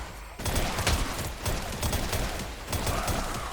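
Rapid gunfire from the video game Lab Escape, with three-round bursts firing in quick succession as a dense, loud volley that barely lets up.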